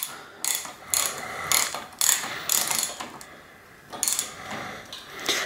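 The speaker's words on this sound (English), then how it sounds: "Then I'll use a 24 millimeter socket to go ahead and do it in." A ratchet turning a 24 mm socket clicks in repeated rapid bursts while tightening the cap on a Manitou Magnum bicycle suspension fork, close and crisp, with brief pauses between strokes.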